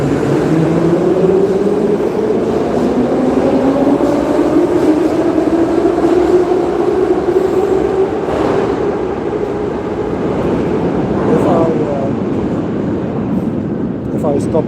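Steady rumbling rail noise fills a moving train carriage throughout, with rising and falling wheel tones and a continuous roar, while someone talks over it.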